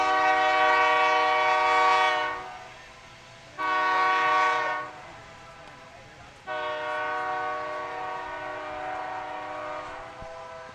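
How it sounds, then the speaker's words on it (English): Train passing near a baseball field, its horn sounding in three long, strongly tonal blasts with short gaps between them over a low rumble of rail cars. Commentary voices are faintly present. "We have the train coming by."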